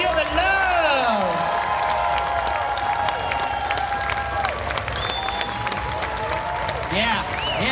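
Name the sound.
convention audience applauding and cheering Billy Dee Williams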